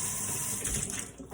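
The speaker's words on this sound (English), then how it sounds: "I'm gonna rinse this little mixer off here" A small mixer cup is rinsed under a running tap at a sink, water splashing steadily and close for the whole moment.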